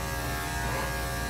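Electric clippers buzz steadily and loudly close by while an Aussiedoodle dog is groomed, a constant motor drone with no breaks and no talking.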